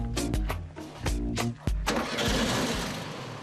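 A VW Beetle 1303 convertible with a rear air-cooled 1.6-liter 50-horsepower boxer engine cranks in several loud, evenly spaced bursts, then catches and settles into a steady, rough running roar.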